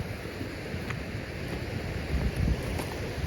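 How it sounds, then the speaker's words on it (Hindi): Waterfall pouring down in a high mountain valley near glaciers at about 3,600 metres on a Himalayan trek, heard as a steady, broad rushing roar with wind buffeting the microphone, no voices. "यहाँ से भी झरना आ रहा है।"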